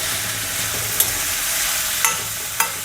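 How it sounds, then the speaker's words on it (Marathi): Soaked chana dal and vegetable being stirred in a frying pan: a steady, close sizzle with a few sharp spatula scrapes against the pan, no voices. "ही भिजवलेली हरभऱ्याची डाळ टाकायची आहे हे पण चांगलं असं हलवून घ्यायचं आहे भाजी"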